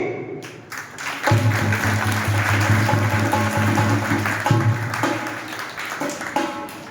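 Applause breaks out at a Shri Krishna Pranami temple auction for breaking the matki pot, a dense burst of clapping starting after a quiet moment and holding steady, loud and close, over faint tonal background sounds.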